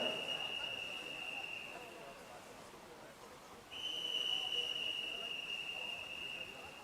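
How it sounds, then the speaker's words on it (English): Whistle blown at a regional swimming championship, two sustained shrill blasts, the first short and the second longer after a brief pause, heard over a faint crowd murmur. "Let's listen to whistle number 4."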